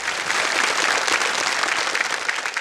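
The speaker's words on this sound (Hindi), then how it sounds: "एक बार तालियां बज जाए इनके लिए।" Studio audience on a televised quiz show breaks into steady, sustained applause, dense clapping at a constant loud level throughout with no voices rising above it.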